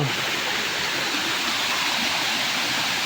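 Muddy water rushes continuously in a steady, full broadband roar, like a swollen stream flowing nearby, with no talking.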